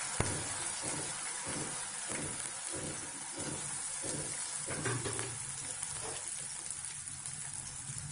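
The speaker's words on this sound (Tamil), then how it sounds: "இதை போட்டு பச்சை வடை போக நல்லா வதக்க போகிறோம்" Ground spice paste with cumin and curry leaves sautés in an oiled pan, giving a steady low sizzle with soft rhythmic scrapes of a spoon stirring through the mixture.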